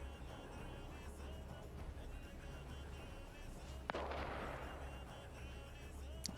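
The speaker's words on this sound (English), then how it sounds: "Let's bring some more artillery in." Artillery fire in the video game Arma 3, set in trench warfare: a single sharp distant boom with a rumbling tail over a steady low background drone.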